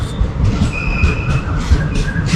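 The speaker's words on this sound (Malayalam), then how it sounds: "നമ്മുടെ തിരുച്ചെന്തൂർ എക്സ്പ്രസ് ഇതാട്ടോ പോകുന്നത്" The Tiruchendur Express pulls out of a railway station, a loud close rumble of rolling wagons with a high metallic wheel squeal running through the short stretch.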